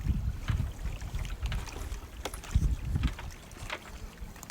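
Bamboo raft gliding across Yambo lake, with soft water sloshing and knocking against the hull, bursts of wind on the microphone and occasional faint clicks, fairly close and steady throughout.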